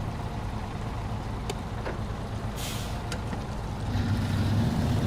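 Truck engine in the off-road game Snow Runner, a steady low rumble that swells louder near the end, with a couple of brief clicks and a short hiss over it.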